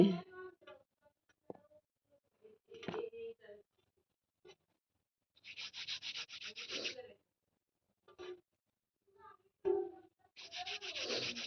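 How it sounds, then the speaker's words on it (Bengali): Hand-rolling dough for chushi, small pasta-like bits, during a festival: intermittent soft rubbing and scraping bursts, quiet and close, with pauses between strokes and a voice talking at times. "দেখো চুষি কাটছি বন্ধুরা"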